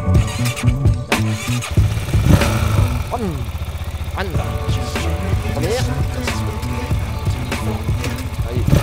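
A Mash 400 motorcycle with a sidecar starts up, with a few sputtering cranks before the engine catches and settles into a close, throbbing idle. Brief revving rises and falls, and voices talk nearby.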